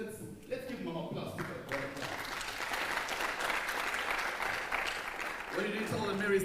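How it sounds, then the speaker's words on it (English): An audience at a women-in-manufacturing launch event applauds, a sustained wash of many hands clapping at moderate level, with a voice speaking briefly at the start and end. "let's give Mama applause"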